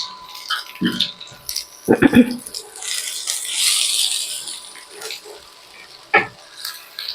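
Chopped onion tips into a pan with a soft hiss, then gets stirred with scattered scraping and rattling knocks of a spoon against the metal, a low sizzle building underneath before a final sharp clatter.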